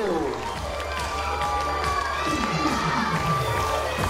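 A crowd under a circus tent cheers and shouts, including children's voices, in a continuous lively roar with some clapping mixed in, loud and close.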